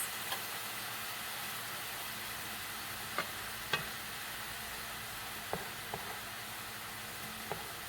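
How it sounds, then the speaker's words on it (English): Cream poured into a pan for a zucchini and yellow squash au gratin cooks with a soft, steady sizzling hiss, broken by a few faint utensil taps. "So now we're going to dump our cream in. We're going to let that cook for a little bit"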